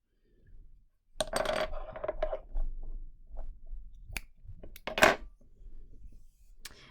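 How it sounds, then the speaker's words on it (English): Scissors cut yarn for a deluxe crochet face mask, giving a few sharp, close snips and metallic clicks spaced irregularly over several seconds, with faint handling rustle and no talking. "now go ahead and cut our yarn here"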